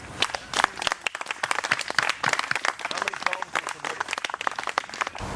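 An audience at a haiku anniversary gathering honoring Nick Virgilio breaks into sustained, steady applause filling the room for several seconds.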